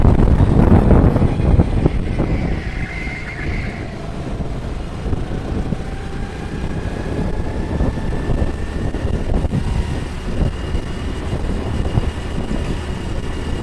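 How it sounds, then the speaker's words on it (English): Wind at an outdoor go-kart track gusts across the microphone in rough, buffeting bursts, with faint engine whines drifting in the distance underneath. "it was a bit windy when we were there"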